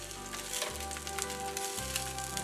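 Eggs and sausages fry in a Teflon pan over medium-high heat, giving a steady, close sizzle and crackle with a brief dip or two as the food is shifted.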